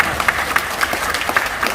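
Audience applause for Pak Amari at a business presentation, steady clapping from a room of listeners with scattered sharper claps standing out throughout.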